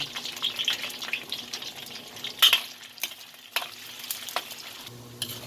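Chicken balls and kikiam frying in hot oil give a steady, close sizzle with bubbling and a few sharper crackles and pops, running without speech throughout.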